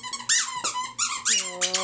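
A Lamb Chop squeaky dog toy is squeezed repeatedly, producing a quick series of loud, close, rubbery squeaks in an irregular rhythm, with a voice speaking briefly alongside.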